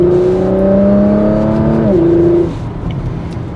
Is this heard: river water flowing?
no